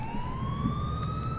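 A siren wails and rises steadily in pitch from an emergency vehicle, an ambulance in the driving game GTA IV, sounding fairly close over a low rumble of road traffic.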